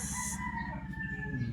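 Several chickens cluck in a steady, busy pattern while a rooster crows across the whole short stretch, with a sharp high burst at the start.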